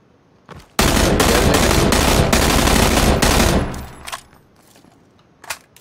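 Automatic gunfire in the PUBG video game, a long loud rapid burst of shots lasting a few seconds, followed by a few scattered single shots fading off.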